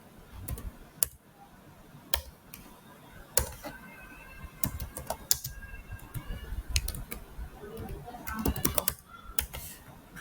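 Fingers type a product name on a computer keyboard while filling in a form in Odoo software, producing close, clear, irregular keystroke clicks in quick bursts with brief pauses throughout.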